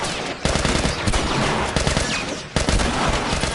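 Shotgun blasts in The Last of Us ring out as several heavy, close booms spaced roughly a second apart, each with a thick, ragged tail over steady game noise.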